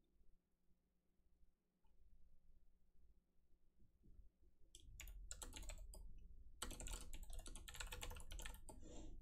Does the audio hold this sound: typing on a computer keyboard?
yes